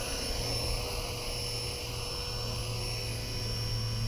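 Blade SRX200 radio-controlled helicopter with a tail-mounted motor, flying in steady flight: a continuous, fairly loud whine with a low steady drone, holding level for the whole stretch with no talk.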